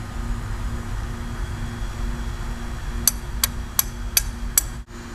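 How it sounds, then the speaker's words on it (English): Wooden boards of a garden box are hammered outdoors: five sharp, evenly spaced nail strikes in quick succession over a low background hum. "let's get to hammering"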